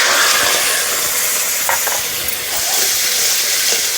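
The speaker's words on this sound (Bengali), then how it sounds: "মশলাটা ভালোভাবে কষে নেব।" Spice paste with cumin powder, sugar and yogurt sizzles and hisses steadily in a pan while being stirred for an egg puri dish. The frying is close and continuous with occasional stirring scrapes, and nobody speaks.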